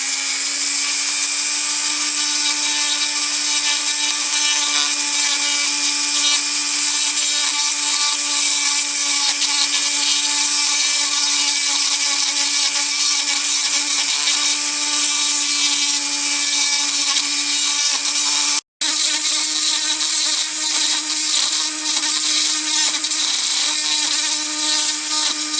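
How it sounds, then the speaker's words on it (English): A Dremel rotary tool grinds a part on a Crescent Toys Fordson Dexta toy tractor, making a loud, continuous high-pitched whine close by. It stops for a split second, then keeps running. "I'll use this piece on the Dremel again"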